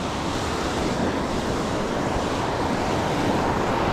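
Surf breaking as whitewash into a deep cove on a Florida beach, a steady loud wash of foam and water that fills the whole stretch, roughened by wind buffeting the microphone and with nobody talking.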